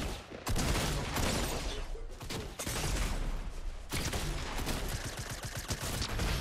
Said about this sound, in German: Ich stehe unter Beschuss.